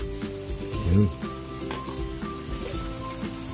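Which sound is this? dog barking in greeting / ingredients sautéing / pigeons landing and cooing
ingredients sautéing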